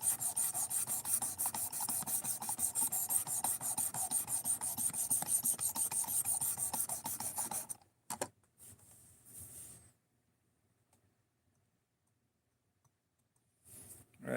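Steady rasping strokes of a knife edge being sharpened to raise a burr run loud and continuous for about eight seconds, then stop, followed by a few faint scrapes and quiet before a brief final stroke.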